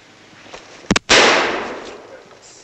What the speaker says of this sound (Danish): nu skyder de igen over i skoven